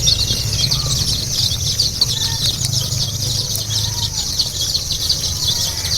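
Baby chicks cheep in a steady high, dense chorus close by, many small voices overlapping without pause over a low background rumble.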